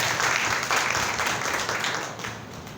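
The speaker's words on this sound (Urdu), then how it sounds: "زوردار تالیاں خدا ان کے لیے بجائے" Congregation applauding during a Palm Sunday church sermon, a full room of steady clapping at moderate loudness that gradually fades toward the end, with no voices.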